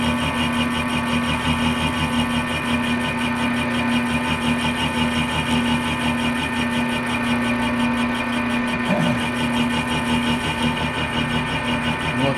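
Milling machine cutter slowly machining a steel shell into bearing spacers, a steady whirring hum with a constant pitched tone and a faint rhythmic chatter, running evenly throughout with no talking.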